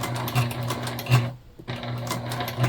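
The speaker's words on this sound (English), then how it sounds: "I'm gonna listen for my machine to have that little oomph in it that tells me that we're up to the bulk that's gonna bother it." A domestic sewing machine runs a tote bag side seam, a close, steady motor whir with rhythmic needle clatter that pauses briefly midway before resuming at the same pace.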